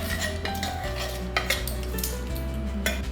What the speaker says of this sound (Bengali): এবার বাকি মশলাটা দিয়ে নাড়িয়ে চাড়িয়ে নেব।